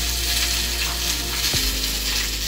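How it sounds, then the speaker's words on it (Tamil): Mustard seeds and urad dal fry in hot oil for ladies finger sambar, a dense continuous sizzle with a brief knock of a utensil midway. "எண்ணெய் காஞ்சிருச்சு, கடுகு உளுந்த பருப்பு போட்டுக்கிறோம்."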